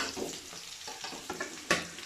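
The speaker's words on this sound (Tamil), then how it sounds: "பச்சை மிளகாய் நல்லா வதங்கின பிறகு இந்த சின்ன வெங்காயத்தை கொட்டி நல்லா வதக்கணும்" Shallots and green chillies sautéing in a pan, a continuous close sizzle broken by a few scraping stirs, with a sharper clatter near the end.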